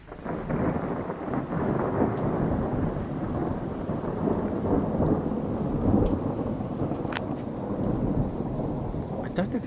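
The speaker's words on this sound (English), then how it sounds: "it hasn't stopped thundering for the past minute" Constant thunder during a thunderstorm rolls on without a break, a deep, heavy rumble with rain mixed in, loud and sustained throughout.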